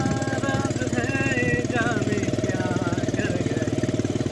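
A rented beach bike's small engine runs steadily close by at Cox's Bazar, a continuous throbbing putter with faint higher tones and music drifting over it.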